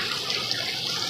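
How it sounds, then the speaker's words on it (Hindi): Heavy rain pours in a steady, dense hiss, loud and unbroken with no voices, a continuous wash of falling water over farm country. "यहाँ पे इतनी तेज़ बारिश हो रही है"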